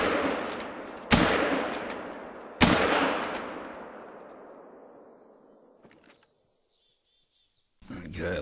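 Two loud rifle shots, about a second and a half apart, crack out while hunting bison in theHunter: Call of the Wild in Ernsdorf, each echoing away over several seconds before quiet birdsong and a final burst of noise.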